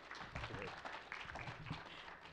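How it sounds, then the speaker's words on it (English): Steady applause from a church congregation, dense and continuous clapping without breaks, moderately loud. "please warm applause for Betty and Bruce Moses."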